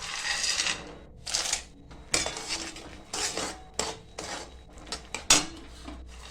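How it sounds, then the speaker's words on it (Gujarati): Peanuts go into golden-brown jaggery in a pan, heard as a run of close scraping and rattling strokes of a spoon against metal, uneven in rhythm, with brief clinks and pauses between. "હવે આમાં આપણે શીંગદાણા નાખી દઈશું"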